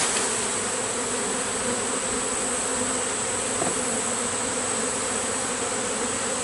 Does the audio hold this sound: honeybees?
yes